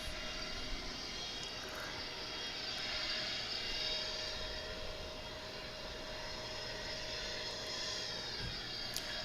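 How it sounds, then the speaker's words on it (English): An American Airlines Boeing 777 jet arriving at DFW airport gives a steady, even engine roar with a faint high whine, sustained throughout at moderate distance with no talk. "we've got an American Airlines flight coming in from Honolulu. That'll be a 777"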